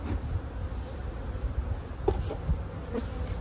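Honey bees hum steadily around fall beehives, a continuous close buzzing with a few faint knocks and clicks underneath.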